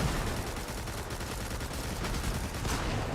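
Dense, continuous video game gunfire rattles throughout, with rapid overlapping shots and bursts at a steady loud level and no talking.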